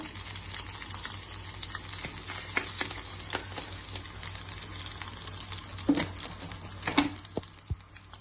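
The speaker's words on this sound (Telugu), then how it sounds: "ఉల్లిపాయలతో పాటు కొంచెం జీలకర్ర కొంచెం వేసుకుంటే బాగుంటుంది. పచ్చడి కాబట్టి కొంచెం కొద్దిగా ఫ్రై చేద్దాం." Onions and cumin frying in a pan for a coconut tomato chutney, heard as a moderate, steady hiss of oil with a few sharper clicks and scrapes near the end and no talking.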